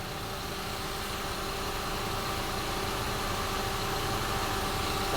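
A Honda CR-V engine runs steadily with the AC compressor engaged and the cooling fan spinning, giving a constant close whirring drone with vibration and no pauses.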